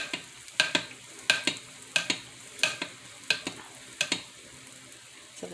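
Gingerbread pancake batter cooks in a hot pan, a low steady sizzle broken by a regular series of sharp clicks and taps from a utensil, roughly every half second, close and fairly quiet with no talking.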